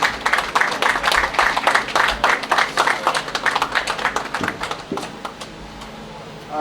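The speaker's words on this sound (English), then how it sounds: "A round of applause for him." Audience applause at the grand opening and commissioning of a hospital, loud, dense clapping from a large crowd that thins and fades over the last couple of seconds.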